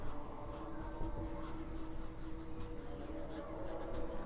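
Chalk writing on a board, quiet repeated strokes and taps in a steady rhythm over a low background hum.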